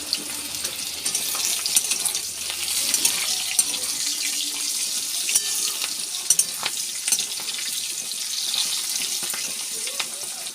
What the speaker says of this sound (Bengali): বিন কড়াই, শিম দিয়ে দিয়েছি ভাজার জন্য